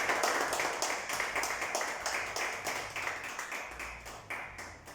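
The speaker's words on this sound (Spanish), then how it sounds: "Den un fuerte aplauso a nuestro Dios en esta noche." A church congregation claps at an evening service, a fast rhythmic run of hand claps with regular sharp beats that stays steady from start to finish, moderately loud with no talking over it.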